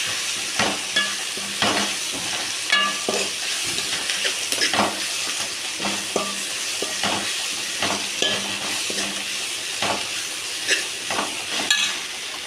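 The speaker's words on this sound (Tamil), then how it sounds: "முருங்கைக்கீரையை நல்லா வணக்கிக்கலாம்." Drumstick leaves sautéed in a hot pan for chutney, with a steady sizzle and repeated scraping stirs of a spatula at an irregular rhythm, close and fairly loud with no talking.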